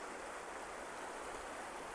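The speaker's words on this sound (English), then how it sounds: "It's a beautiful river and a beautiful riparian ecosystem." The Verde River flows steadily through a lush riparian forest of cottonwoods, sycamores and mesquites, giving a soft, even rushing of water with no voices.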